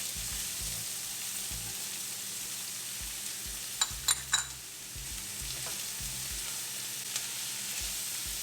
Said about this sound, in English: We'll let the onions cook for a couple of minutes until they soften up.